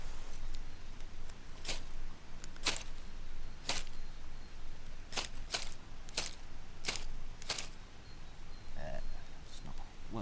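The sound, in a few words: knife striking a flint to make sparks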